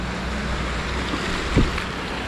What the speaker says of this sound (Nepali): यहाँबाट बगेर चाहिँ यस्तो जाँदो रहेछ नि खोला भएर।